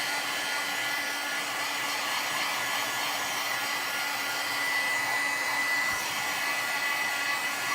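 A hair dryer blows steadily, drying a textured stain on a background, a constant close whoosh with even loudness and no talk.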